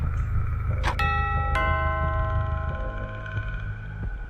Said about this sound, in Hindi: ठीक उसी वक्त घर की डोरबेल बजी